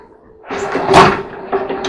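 A large drawer on a newly built wooden chest of drawers slides out on its runners, making a close, loud rumbling scrape that swells in the middle and tails off with a slight knock.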